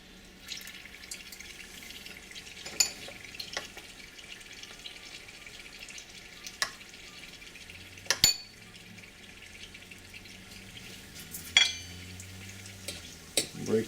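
Indian chili peppers cook in oil that has only just come up to heat, a quiet, soft sizzle with scattered pops and clinks. It stays low and fairly close throughout, with no one speaking.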